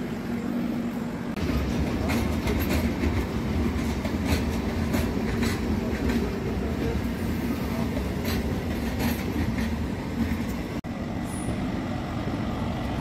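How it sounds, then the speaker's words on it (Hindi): The Sadbhavna Express rolls in with a sustained heavy rumble and a rhythmic clatter of wheels over rail joints, loud and continuous throughout, with a deep low drone from the moving cars. "सद्भावना एक्सप्रेस आ गई।"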